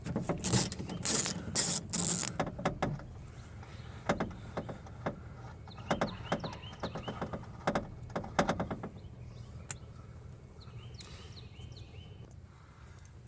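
Ratchet working a studded bolt on a GMC Acadia passenger door during window regulator replacement: bursts of rapid clicking at the start, then shorter ratcheting runs and faint metallic handling, close and quiet.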